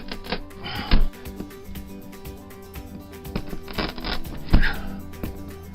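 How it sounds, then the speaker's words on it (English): A small blade cuts a hole through a thin interior ceiling panel inside a camper trailer, making close, rasping scrapes in uneven strokes with two sharper knocks partway through. "I'm taking this little blade here because these interior ceilings are a little bit easier to cut than a 1/4 inch of plywood"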